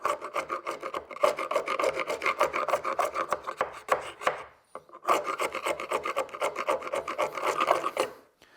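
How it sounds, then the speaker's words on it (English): A carbide-tipped Benchcrafted scraper rasps hardened glue chunks off a wooden workpiece in rapid, close strokes, with a brief pause midway before the scraping resumes; no talking. "If you have a carbide tipped scraper, I like this, the scraper from Benchcrafted Tools is a really cool one."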